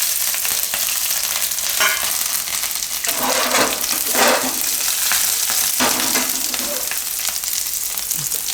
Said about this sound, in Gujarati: તો એમાં થોડુંક જીરું નાખીશું અને મરચાં ને લસણ નાખીશું.